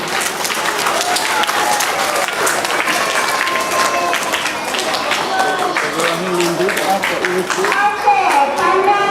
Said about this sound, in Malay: Beri tepukan sekali lagi.